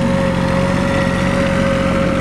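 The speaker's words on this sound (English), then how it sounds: "And there's Jim Nile on his tractor, clearing out the snow." Steady, droning engine of a tractor clearing heavy snow in Mt Shasta, heard close and continuous with a constant pitch and no breaks.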